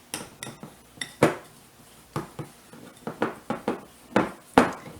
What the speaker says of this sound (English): Cream the brown sugar and butter together.